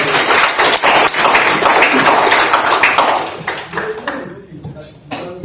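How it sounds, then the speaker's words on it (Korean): An audience claps in a burst of applause to open a science hall's first-anniversary forum; the dense clapping fills the room for about four seconds, then thins and fades out. "큰 박수로 환영해 주십시오."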